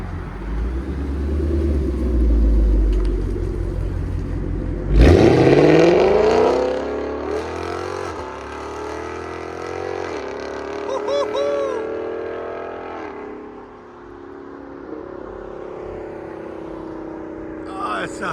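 A Ford Mustang GT 5.0L V8 with a Corsa Xtreme cat-back exhaust fires up into a sudden loud rev, then settles into a deep, steady rumbling idle with voices talking over it.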